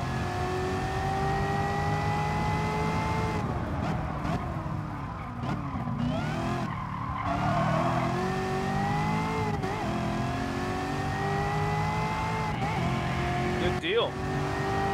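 Chevrolet Camaro ZL1 1LE racing at Mount Panorama in Gran Turismo Sport, its engine revving and shifting through rising and falling pitches, with someone talking over it.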